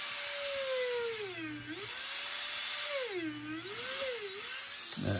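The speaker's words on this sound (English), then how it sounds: "I will drill this side as well." A power drill bores into a wooden base for an otter carving, its whine rising and falling in pitch as the bit cuts and slows, loud and close.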